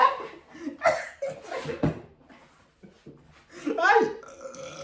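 Loud, drawn-out burps during a burping contest, several in a row with rough rising and falling tones, mixed with laughter and talking voices nearby.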